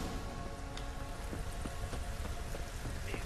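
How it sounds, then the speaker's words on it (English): Rain falls in the fantasy game The Witcher 3: Wild Hunt, a dense, even hiss of droplets with scattered louder patters and soft ticks, steady throughout at moderate volume. "Looks like rain."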